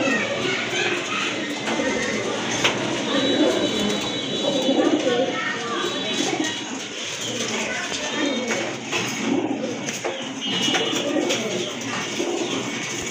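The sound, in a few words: pigeons cooing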